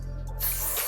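A short hiss of spray during a wig install, starting abruptly partway through and continuing as a close, steady burst under a low background hum.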